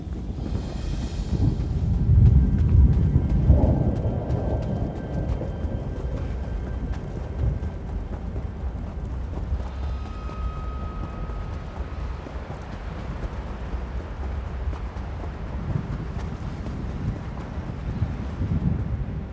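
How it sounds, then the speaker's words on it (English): A thunderstorm in the video game Elder Scrolls Online: a low rumble of thunder rolls early on, then steady rain and gusting wind hiss on without pause. "The storm rages, but here I am, out of the rain."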